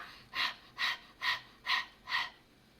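Five evenly spaced, breathy huffs of tired panting from a nearby voice, each short exhale loud and clear against a quiet background, performed as an out-of-breath imitation during a children's English lesson.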